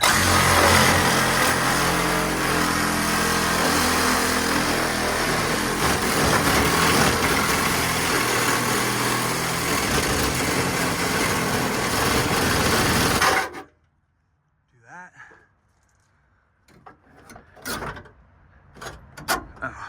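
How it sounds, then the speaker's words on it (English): A Milwaukee Sawzall reciprocating saw cuts with a loud, steady buzzing drone for about thirteen seconds, then stops abruptly and leaves a few faint clicks and bumps. "another one of the items in my kit, Sawzall, because you can do things like this real fast"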